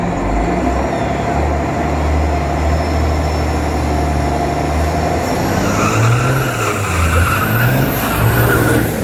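Australian Super Truck making a drag racing run at The Bend Motorsport Park, loud continuous engine roar throughout with shifting pitch and rumble as the truck accelerates, heard from trackside.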